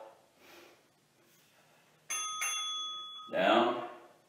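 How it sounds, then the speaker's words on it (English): A bell rings out once during a home abs and core workout class, its bright metallic tone lingering for over a second before a voice speaks, with faint talk beforehand. "Here's the bell."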